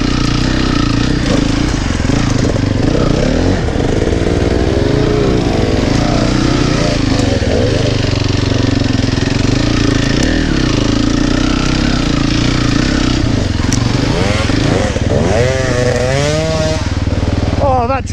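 Four-stroke enduro motorcycle climbing a slippery hill, engine loud and close throughout with the revs rising and falling as the rear wheel spins, and a rider's voice talking over it at times.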